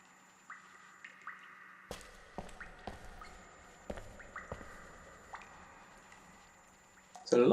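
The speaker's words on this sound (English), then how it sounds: "There's a lot of dripping in here." Water dripping inside a cave in the video game Scanner Sombre, sharp scattered drops landing at uneven intervals against a quiet ambient hum, with a louder burst at the very end.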